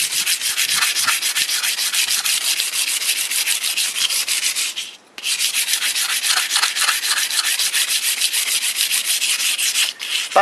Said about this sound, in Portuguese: nós estamos usando aqui uma lixa 180 para metal